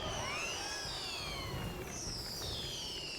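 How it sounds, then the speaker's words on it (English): Fireworks in the Neverwinter video game whistle upward in rising and falling streaks over a dense crackling wash, steady and fairly faint throughout. "Those fireworks. I do enjoy fireworks"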